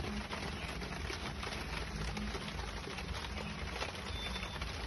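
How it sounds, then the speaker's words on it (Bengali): Heavy rain falls outside in a garden during the monsoon season, making a faint, even wash of noise with no talking. "দেখুন বাইরে এত বৃষ্টি"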